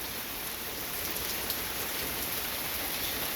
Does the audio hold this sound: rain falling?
yes